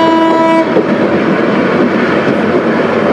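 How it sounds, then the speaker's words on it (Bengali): Subarna Express locomotive on the Chattogram to Dhaka run sounds its horn in a loud sustained tone that cuts off after a moment, leaving the close rumble of the moving train. "লোকোমোটিভের লম্বা হর্ন, সাথে রেড সিগন্যাল পেয়ে স্লো।"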